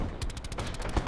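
A rapid burst of gunshots in Call of Duty Blackout, a string of about ten sharp, evenly spaced reports fired at close range. Nobody speaks.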